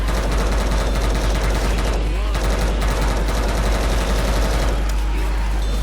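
M16 rifle fire in Left 4 Dead 2, an automatic stream of loud, close shots with a short break partway through, over a continuous low game rumble.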